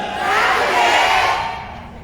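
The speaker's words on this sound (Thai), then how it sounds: "ผมว่าเมื่อกี้เนี่ยมีคนตะโกนเบอร์ 20 สักอย่างนะครับพี่น้อง" A crowd at an outdoor Thai political election rally shouts and cheers together in one loud sustained roar that swells and then fades over about two seconds.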